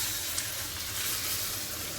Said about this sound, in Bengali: গরম জল নিয়ে নিচ্ছি, এবার দিয়ে দিই।